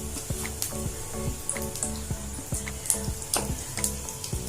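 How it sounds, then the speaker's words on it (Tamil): Potato cheese balls deep-fry in hot oil with a continuous close sizzle, broken by repeated sharp clicks and taps as they are turned and lifted. "அதே மாதிரி மீத இருக்க பால்லாம் நம்ம இந்த மாதிரி பொரிச்சு எடுத்துடலாம்"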